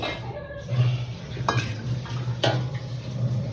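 Dishes being washed by hand at home, with scattered clinks of pots and utensils and splashing water over a low steady hum, no one talking.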